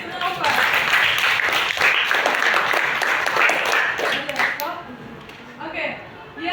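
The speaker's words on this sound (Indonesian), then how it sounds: "Tepuk tangan untuk Naufal." Classroom of students applauding together for a classmate, a dense burst of clapping that thins toward the end, with a teacher's voice speaking over it.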